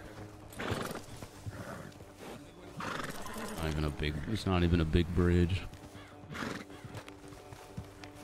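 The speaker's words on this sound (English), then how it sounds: "Uh-oh, the horse." Horse in the WildRP game neighing loudly and clip-clopping its hooves amid a busy scene, the whinnies rising over steady hoofbeats while several people talk over it.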